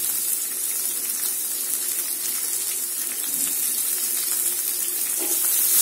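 Sliced onion and curry leaves frying in a hot pan, giving a steady, bright, close sizzle that holds evenly throughout with no voices over it.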